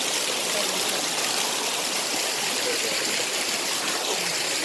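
Water pouring at Kanhatti waterfall in Soon Valley, Khushab, Punjab, Pakistan, a close, steady hiss and rush of flowing water filling the whole clip, with faint voices beneath.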